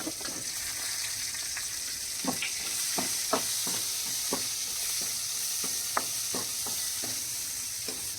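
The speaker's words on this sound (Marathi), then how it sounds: "शिमला मिरच आहे ती पण आपण आता फ्राय करून घेऊया थोडीशी फ्राय करून घेऊया" Capsicum frying in a pan gives a steady close sizzle with scattered stirring clicks and scrapes, no voices.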